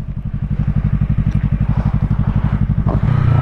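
A motorcycle engine thrums close by while riding through a turn, a fast, regular pulsing beat that holds steady and then rises slightly louder near the end, with no talking.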